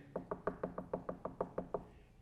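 Knocking on the front door of a house: about ten quick, evenly spaced raps, close and crisp, with nothing else around them.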